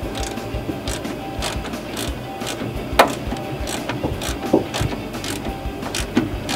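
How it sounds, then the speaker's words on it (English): A ground wire is fastened for an off-road light switch inside a vehicle, with close ratcheting clicks and small metallic taps of a tool on a screw in an irregular rhythm. No one speaks. "So right now we're going to attach the ground wire for the switch."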